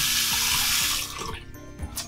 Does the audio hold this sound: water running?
yes